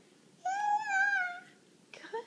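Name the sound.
child imitating a cat's meow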